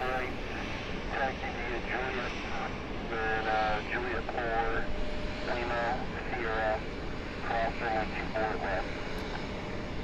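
JetBlue airliner taxiing at Cleveland airport, a steady broad jet engine roar held at a distance through the whole stretch, with a person talking over it.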